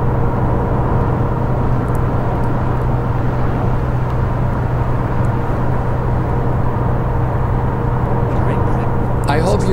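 Cars and trucks passing a Neoplan Skyliner coach in Fernbus Coach Simulator, a steady loud engine and road drone from inside the coach with faint whooshes of passing vehicles.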